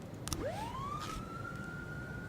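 A stolen fire engine's siren in the police-management game This is The Police, one clear rising wail that climbs quickly and then holds a steady tone, loud and close, with a few brief clicks at the start and no talk.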